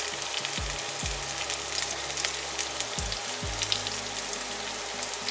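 Green chillies sizzle and crackle in hot oil for paneer angara, a steady close frying hiss with a few low thuds as pieces drop into the pan.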